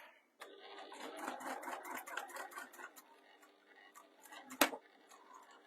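Close-up sewing machine stitching a faux leather bag strap: a run of quick rhythmic needle clatter that slows and stops, then a few short back-stitch bursts and a sharp click near the end.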